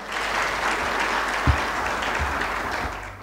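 Steady applause from an audience at an aviation stakeholders convention, a dense continuous patter of many hands clapping throughout, with a few low thumps along the way.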